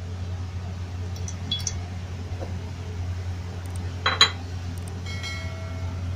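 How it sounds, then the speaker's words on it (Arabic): A cooking pot is set down on a stove, making a brief metallic clink near the end over a low steady background hum, with fainter scattered clinks earlier. "دلوقتي بقى انا جبت حلة وهحطها على النار"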